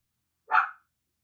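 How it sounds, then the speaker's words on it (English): A single short dog bark at a trash collector, mid-pitched and clear, alone against silence. "My dog's barking at the trash man."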